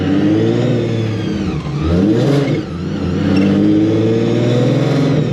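A supercharged Nissan 350Z engine revs through a wide open throttle pull from about 3,000 to 5,000 RPM, a loud, steady rising drone close by with a brief dip midway before climbing again, no voices over it.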